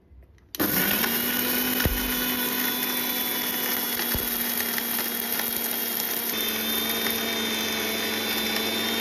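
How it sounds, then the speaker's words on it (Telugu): A mixer grinder grinding roasted whole spices to a fine powder starts abruptly and runs at a steady high-pitched whine, loud and close, with grinding noise throughout and no talking. "మసాలా దినుసులన్నీ కూడా ఇట్లా మంచిగా మెత్తగా పౌడర్ అయ్యే వరకు కూడా మనం మిక్సీలో గ్రైండ్ చేసుకున్నాము."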